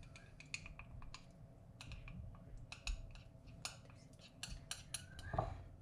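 Potato salad with pesto and mozzarella is mixed with oil in a bowl, giving close, irregular clicks and taps of a utensil against the dish over a faint background hum.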